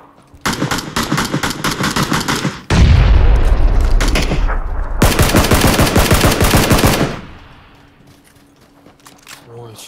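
Loud video-game gunfire from a recoilless rifle-style weapon in a battle match: dense bursts of rapid automatic shots alternate with heavy booming blasts over roughly seven seconds, then fade to quieter ambience.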